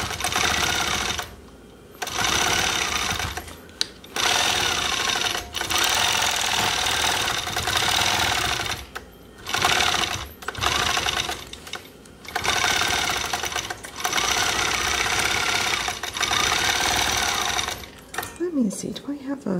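Sewing machine stitching in the ditch on Dear Jane quilt blocks, running in repeated bursts of steady mechanical whirring separated by brief pauses, close and fairly loud.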